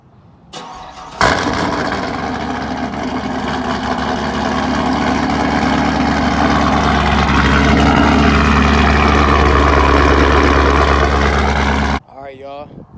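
Cold start of a Chevrolet Camaro 2SS: a starter whirs, then the engine catches with a loud flare and settles into a steady, rumbling idle before cutting off abruptly, with a voice briefly at the very start and end.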